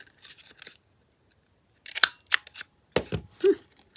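Big scissors snip across paper in short, crisp bursts, several close cuts clustered after a quieter stretch of light rustling, with brief pauses between strokes.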